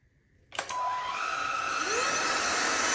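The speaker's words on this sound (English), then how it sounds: "And this is the SMOTURE vacuum." A SMOTURE cordless stick vacuum cleaner switches on after a brief quiet moment and settles into a loud, steady high-pitched whine with a rising motor tone at its maximum setting, close by.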